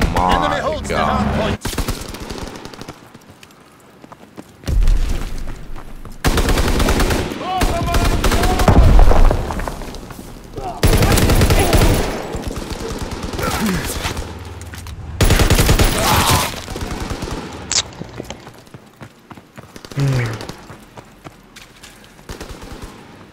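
Rapid bursts of Type 100 submachine gun fire in Call of Duty: WW2 multiplayer, loud and repeated in several clusters, mixed with other battlefield shots and game effects.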